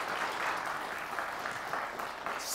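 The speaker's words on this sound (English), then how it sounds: "How about a round of applause for them?" A studio audience applauds the high school quiz bowl teams, a dense burst of clapping that stays steady and close for a few seconds.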